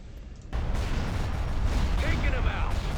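A shield generator blows up in a Star Wars space strategy game, Imperial bombers attacking. A low booming explosion erupts after a brief quiet lead-in, then sustains as a rumbling roar with crackling debris until the end.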